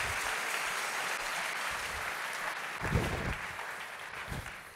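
Congregation applauding at a church service, a steady, dense wash of clapping throughout with a few louder bursts, fairly close and with no talk over it.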